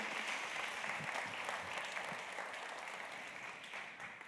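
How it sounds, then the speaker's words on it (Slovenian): An audience claps for a singer at a live show, a sustained wash of applause that holds strong and then slowly thins, with nobody speaking over it. "Dajmo še en aplavz, prosim, za njo."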